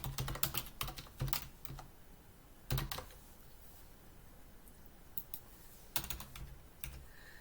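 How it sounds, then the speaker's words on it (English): Computer keyboard typing in short clusters of quiet key clicks separated by pauses, close by and soft, with no voices. "I'll just type that in."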